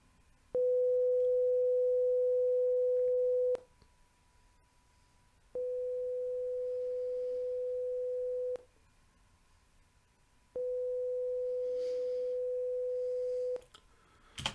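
A steady pure sine-wave test tone sounds three times from a center speaker or both speakers, each lasting about three seconds with equal silent gaps between, over a faint background hiss.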